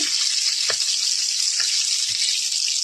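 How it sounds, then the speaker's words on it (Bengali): Steady hiss and light sizzle as white cooking oil is poured into a wok, with a few soft clicks; no talking. "কড়াইতে আমি সাদা তেল ঢেলে দিচ্ছি।"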